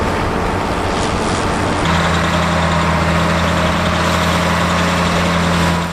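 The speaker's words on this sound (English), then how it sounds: "County built this 138 horsepower tractor between 1972 and 1978." A County 138 horsepower tractor built in the 1970s runs at a working event, its engine a steady loud rumble that settles into a constant droning hum partway through.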